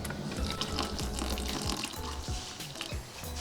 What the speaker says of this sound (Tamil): இதில் இன்னும் கொஞ்சம் நம்ம தண்ணி ஊற்றிக்கலாம்.